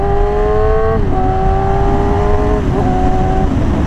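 A Yamaha R6 sport motorcycle with an insanely loud aftermarket exhaust revs hard and close, its steady high engine whine holding, dipping briefly, then climbing again through the stretch.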